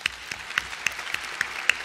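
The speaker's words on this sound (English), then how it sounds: "Let's give them a round of applause." Scattered audience applause at a Hong Kong tech conference panel, a thin, fairly quiet patter of individual claps with distinct sharp hits, no talking.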